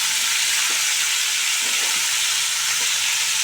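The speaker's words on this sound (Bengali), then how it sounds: "আমি অনবরত নাড়তে থাকছি যাতে ফুলকপি পুড়ে না যায়।" Cauliflower frying in a pan and stirred constantly, with a loud continuous sizzle and a few scraping strokes of the spatula.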